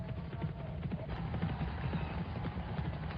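Racehorses gallop along a UK track in a close race, a fast muffled drumming of hooves under a steady crowd-and-track roar, fairly loud and continuous.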